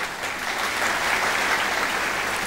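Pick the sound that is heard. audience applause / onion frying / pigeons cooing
audience applause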